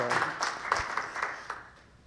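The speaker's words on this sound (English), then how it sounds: "right now, I'll just ask you to give some applause" A lecture audience claps to welcome a speaker, a brief round of close applause that thins and fades within a couple of seconds.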